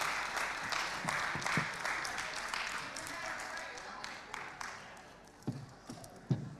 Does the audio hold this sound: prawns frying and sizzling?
no